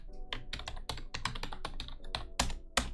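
Rapid typing on a computer keyboard, with dense close key clicks in an uneven rhythm and a couple of louder strikes near the end, heard alone without speech.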